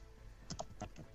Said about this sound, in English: I don't know, but someone is typing.